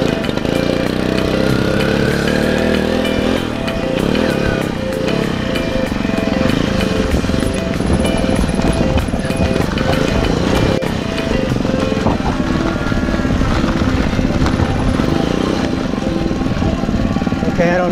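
A motorcycle engine runs loud and close on a muddy course, a continuous rough buzzing drone that holds steady throughout.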